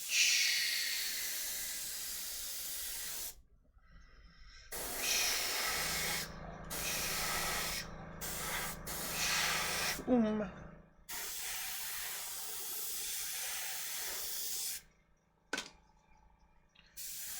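An airbrush sprays paint onto a miniature in short hissing bursts of air, some brief and some sustained, separated by quiet gaps and heard up close.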